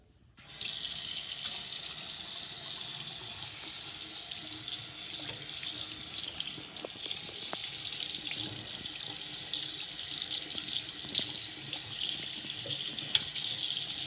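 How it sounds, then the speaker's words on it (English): A tap runs steadily into a sink while a GameCube controller faceplate is rinsed under the stream, giving a constant splashing rush with a few faint knocks and shifts in tone toward the end. "You just go ahead and wash it out with water."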